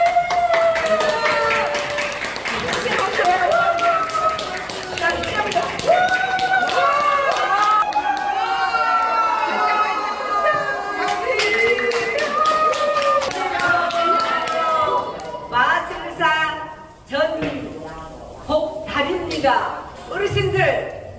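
An audience claps at a recreation show with a magic act and music at a Yangpyeong elderly care hospital. Steady, scattered hand claps run through the whole stretch, mixed with music and voices, thinning toward the end.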